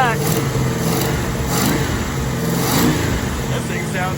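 A Mopar 440 six-barrel V8 with a slight exhaust leak runs on all eight cylinders and revs freely, a steady loud engine drone with mild rises, and people talk over it.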